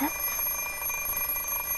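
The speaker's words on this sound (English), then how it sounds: "Look at the alarm clock drowsily." An alarm clock ringing in the Fate/Stay Night visual novel: a thin, high electronic ringing holds steadily for about two seconds, fairly quiet, with no voices over it.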